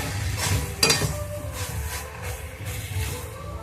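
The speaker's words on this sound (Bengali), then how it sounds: "নারকেল কুড়ানোটা দিয়ে ভালো করে নাড়তে হবে।" A utensil stirs banana flower curry (mocha ghonto) with grated coconut in a pan: soft scraping and a few sharp metallic clinks over a steady low sizzle, close and moderately loud, with no voices.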